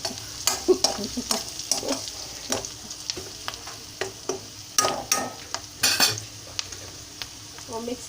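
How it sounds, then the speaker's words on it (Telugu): Spices fry in a pan for mutton haleem, stirred with a utensil that scrapes and clinks against the metal in irregular bursts over a soft, continuous sizzle, close and fairly loud, with no talking. "ఇప్పుడు ఒక తిప్పి"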